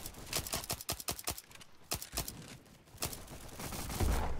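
Gunfire in the Roblox game Bad Business crackles in a quick run of sharp, fairly faint shots with a few scattered later cracks, amid a busy game background.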